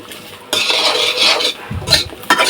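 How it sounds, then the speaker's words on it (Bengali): Papaya pieces frying in oil in a pan, heard as loud close bursts of stirring and scraping with clattering utensil noise over a sizzling background, uneven and short, with no voices. "পেঁপেগুলো আগে তেল দিয়ে ভাজে নিতেছি"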